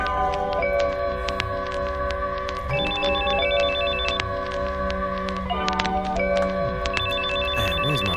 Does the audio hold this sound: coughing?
no